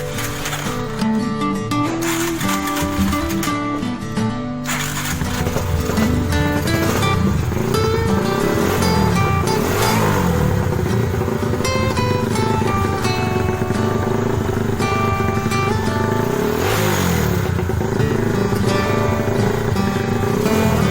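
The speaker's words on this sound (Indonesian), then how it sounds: "Oke bro, ini motornya sudah hidup." A modified Yamaha Scorpio motorcycle in Japstyle form runs with a loud, continuous engine note that rises and falls in pitch as it revs, with mechanical clatter layered over the drone.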